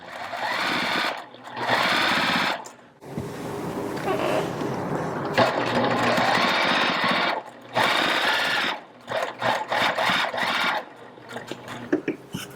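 A domestic sewing machine fitted with an AccuStitch stitch regulator quilts along a ruler, its motor running loud in long bursts with brief pauses and stops between runs.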